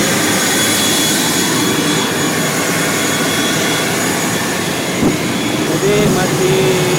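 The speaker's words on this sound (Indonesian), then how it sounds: "Kita menggunakan pesawat" ATR 72-600 turboprop airliner on the runway early in the morning, its engines giving a steady loud roar throughout, with a faint voice briefly audible under the noise.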